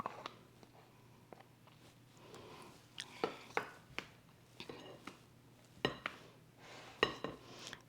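A spoon or spatula folds sour cream into chocolate pound cake batter in a bowl by hand, giving soft scraping with scattered clinks and taps against the dish, close and fairly quiet over a low hum.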